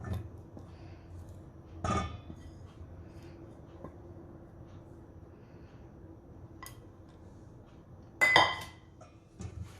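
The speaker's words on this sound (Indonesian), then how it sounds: "Kita aduk." A spoon stirs cheesy muffin batter in a bowl, mostly quiet, with two distinct sharp clinks against the bowl and a few softer taps in between.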